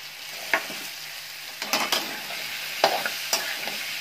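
Carrots and soaked peanuts sautéing in a pan, an even sizzle under a few sharp spoon scrapes and clicks as the mix is stirred, close and fairly quiet, with no talking.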